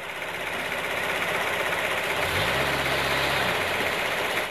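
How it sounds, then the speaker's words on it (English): A Fiat Panda's 0.9-litre two-cylinder TwinAir petrol engine idles with a low, steady throb, joined partway through by a deeper humming drone, heard under a constant broad hiss. "The new Panda is outfitted with an especially fuel-efficient 2-cylinder twin-air gasoline engine"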